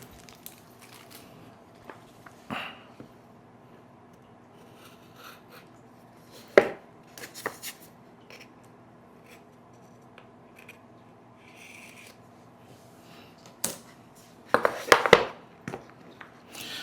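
Cigar box packaging in cellophane being opened, with sparse crinkling and rustling handling noises and a few sharper crackles near the end, close but fairly quiet against a faint steady hum.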